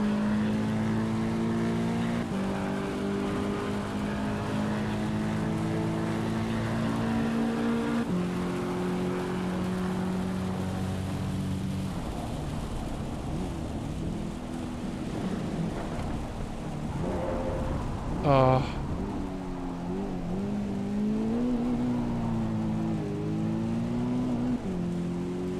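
Race car hydroplaning on a wet track in Assetto Corsa EVO, a steady engine drone with shifting pitch under a wash of rain and spray noise, one brief sharp spike partway through.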